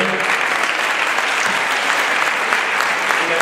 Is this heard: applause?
yes